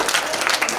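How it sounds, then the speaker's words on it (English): A brief burst of audience clapping at a school meeting, dense and even for under a second. "A clap."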